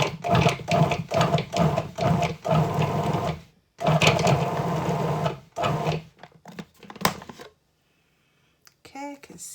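A food processor pulses cubed butter into pastry dough for a lemon meringue tart, giving close, loud bursts of whirring in a quick rhythm that stop, then a few softer sounds trail off.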